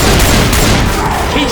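A dense, loud burst of gunfire fills a short moment of a video game firefight during a hurricane survival game, booming continuously without gaps.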